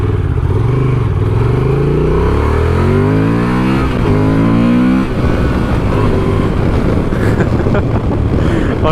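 A 2024 Honda Transalp 750 at speed on the road, its engine giving a deep, bassy note that climbs in pitch as it revs up through a gear. Wind rush takes over after the note settles, and there is no talking over it.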